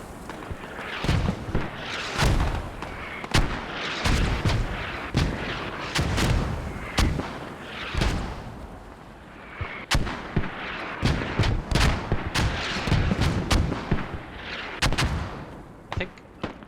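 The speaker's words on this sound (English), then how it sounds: "They just keep mortaring that hab." Mortar and artillery blasts in a competitive video game battle, a dense run of booming impacts and gunfire repeating every second or so, loud and continuous.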